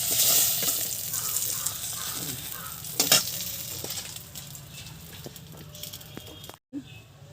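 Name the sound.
koi fish frying lightly in oil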